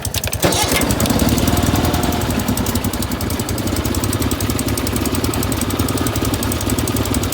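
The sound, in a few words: old SS engine started and running after valve adjustment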